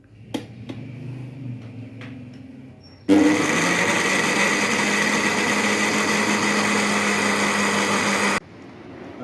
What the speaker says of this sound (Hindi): पानी डालने के बाद मैं मशीन को चलाऊँगा।